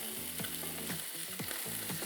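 Trout fillets fry in a hot pan with a steady, dense sizzle, while a utensil scrapes and stirs in repeated strokes. No voices are present.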